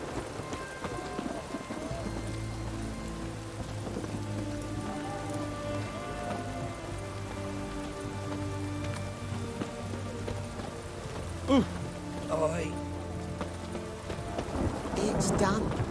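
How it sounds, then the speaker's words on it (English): Steady rain patters throughout a Witcher 3: Wild Hunt storm scene, with low rolling thunder rumbling beneath and one sharper crack late on, all under a soft musical drone. "It's raining, of course it's going to be."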